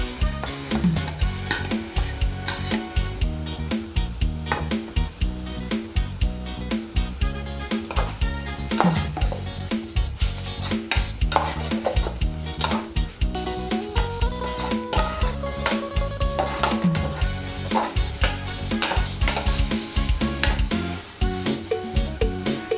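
Beef stir-fried in a pot with sweet liver and beef tripe added, a steady sizzle with repeated scraping and clinking of a utensil against the pot throughout, close and continuous, no talking.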